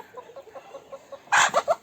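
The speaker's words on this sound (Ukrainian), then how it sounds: "тому курочки не зіпсовані, а з ними гуляють ось такі півники" Chickens and roosters cluck in a steady run of short rhythmic calls, then a louder, nearer burst of agitated clucking at the end.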